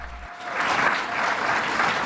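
A crowd at a political speech breaks into steady applause, a brief wash of clapping that swells quickly and holds for about two seconds.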